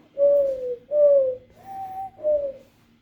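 Person imitating a dove with four close, clear, hooting coos in an even rhythm, each a smooth sustained whistle-like note with short gaps between.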